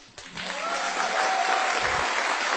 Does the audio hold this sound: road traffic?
no